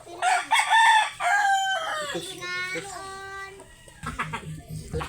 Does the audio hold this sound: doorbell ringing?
no